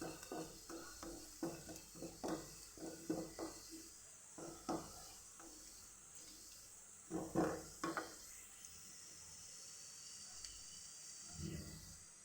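Spinach being stirred and fried in a pan, with a run of scraping, clattering stir strokes over a soft sizzle, then a quieter stretch and one last stir near the end.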